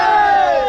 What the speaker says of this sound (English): So loudly 3 times बोलेंगे गंगा मैया की